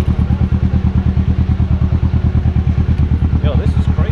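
Motorcycle engine idling with a steady, loud, rapid thumping beat, close by and continuous throughout, at a motorcycle meet; a brief voice cuts in near the end.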